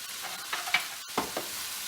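Vegetable hakka noodles are stirred in a hot pan with a wooden stick. Soft sizzling runs underneath several distinct scraping strokes, with a short pause just past the midpoint.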